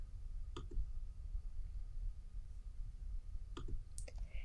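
Faint, sparse mouse clicks in EndNote software, a couple of quick double clicks spaced a few seconds apart over a low steady background hum.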